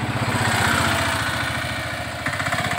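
A Honda Jazz VX with an i-VTEC engine idles close by with an even, rhythmic low chugging that stays steady throughout.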